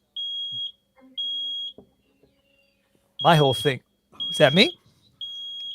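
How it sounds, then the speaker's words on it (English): A smoke detector sounds in a studio during a live morning show, the alarm set off because the ventilation system was left off, giving steady high-pitched beeps in a repeating pattern with a person talking between and over them. "that's a fire alarm going off because I didn't turn the ventilation system on when I fired up"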